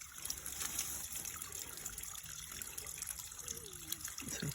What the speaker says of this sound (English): this fresh spring water coming out of the ground on our property